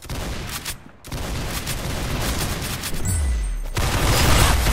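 Rapid gunfire in the Roblox game Arsenal, a loud dense barrage of shots with a brief gap near the start and a low booming rumble toward the end, all close and continuous.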